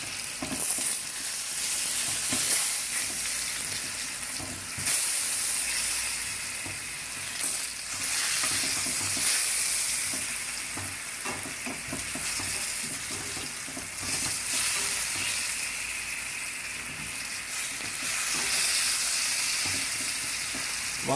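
Fondant potatoes sizzle steadily in a pan over medium-high heat, a loud, continuous frying crackle with occasional stirring or shifting clatters throughout, no voices.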